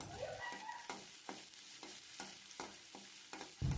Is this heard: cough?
no